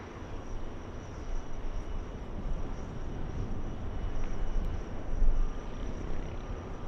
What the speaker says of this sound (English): Delta 914. Taking off, 7 minutes late.